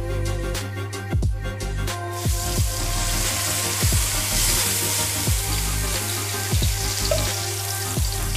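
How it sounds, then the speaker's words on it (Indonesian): Spice paste sautéing in a hot pan for a sweet-spicy soy-sauce chicken, a steady broad sizzle with scattered pops and spatters, fairly close and constant throughout. "Yuk kita tumis bumbu-bumbunya ya."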